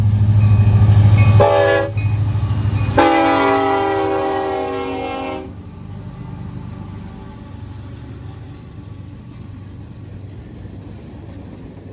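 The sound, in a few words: freight train led by Union Pacific SD70ACE locomotive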